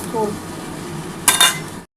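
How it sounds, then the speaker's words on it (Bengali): Panch phoron spice mix dropped into hot oil in a pan crackles and sizzles in a brief burst near the end, after a few soft utensil clinks and a quiet kitchen background. "আর যে তেলটা আছে সেই তেলের মধ্যে আমি পাঁচফোড়নটা দিয়ে দিচ্ছি"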